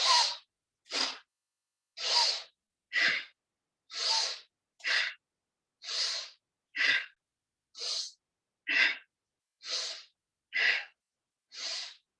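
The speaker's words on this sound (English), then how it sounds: "Breathe out forcefully." During a pranayama breathing exercise, a person makes thirteen forceful, breathy exhalations through the nose in a steady rhythm, each a short sharp burst separated by silence and heard up close.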